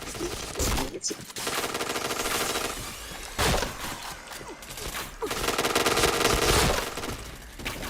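Rapid bursts of game gunfire crackle almost continuously, dense and loud, with short gaps and sharper single cracks between volleys in a first-person shooter match.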